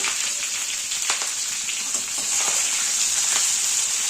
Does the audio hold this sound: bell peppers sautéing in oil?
yes